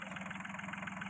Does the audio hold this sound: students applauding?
no